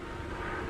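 Forestry Department aircraft flying over fire-devastated mountains and hillsides in the San Gabriel Mountains, a steady, continuous engine drone at moderate distance with no voices.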